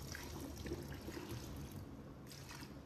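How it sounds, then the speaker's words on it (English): Water is poured into a jar of grass clippings, salt and lemon juice, a faint steady trickle and splash heard alone for a few seconds. "Next, I added enough water to the jar and stirred it again until it was evenly distributed."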